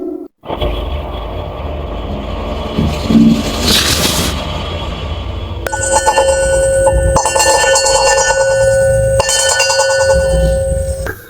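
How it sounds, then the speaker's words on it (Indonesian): A mystery bell rings out in a spooky intro, with a scraping, whooshing build giving way to sustained metallic bell tones that ring loudly and resonantly for several seconds. "lonceng misteri sudah berbunyi"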